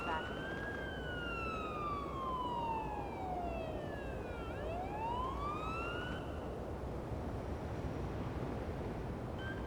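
An ambulance's wailing siren in a paramedic video game sweeps slowly down and up in pitch over a steady engine rumble, loud and close, as it drives along.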